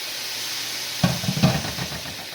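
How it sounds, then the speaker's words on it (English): Meat sizzles and hisses in a hot frying pan with sauce, with a soft clatter of stirring and a few louder crackles near the middle. "Sizzle, sizzle."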